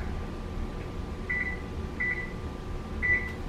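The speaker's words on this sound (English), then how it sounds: "And put my timer on." A kitchen timer being set while biscuits go into the oven, giving three short high electronic beeps spaced about a second apart over a low steady appliance hum.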